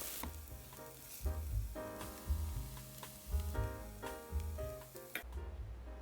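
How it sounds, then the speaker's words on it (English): Onion, garlic and ginger sauté in hot oil, a steady close sizzle running continuously with occasional louder crackles and faint stirring, no voices. "Once the oil is hot enough, add the onion, garlic, and ginger. Sauté till the onions become translucent"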